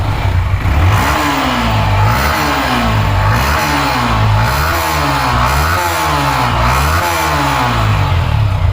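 A used motorcycle's engine runs loudly up close during a pre-purchase check, revving repeatedly in a steady rising-and-falling rhythm.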